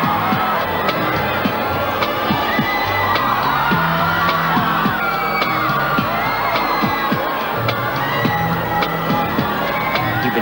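A large crowd cheers and shouts continuously at the Venice Film Festival opening, a dense, loud wash of many voices with whoops and yells throughout.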